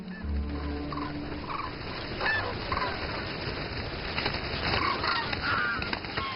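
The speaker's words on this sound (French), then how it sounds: "des dizaines de milliers d'oiseaux viennent ici passer l'hiver." Tens of thousands of wintering birds gather on the Ongtan wetland at the east end of an island near Shanghai, giving honking, goose-like calls that rise over a constant noisy chorus, some near and many distant.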